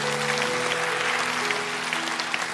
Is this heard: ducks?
no